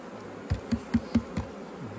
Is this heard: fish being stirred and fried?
no